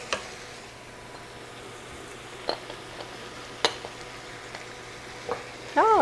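Onions and peppers cook in a pan for a loose meat sandwich, giving a quiet, steady sizzle with a few sharp utensil clicks and taps scattered through it.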